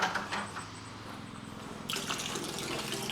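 Water runs steadily through a Ryobi 1.8 GPM automotive high-flow pressure washer, a continuous close hiss and splash that grows brighter and louder partway through, with no talking.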